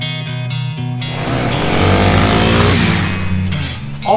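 A stock 2022 Kawasaki KLX 300 dirt bike engine idles with a steady putter, then revs up loudly and holds a high roar before dropping back toward idle, close by.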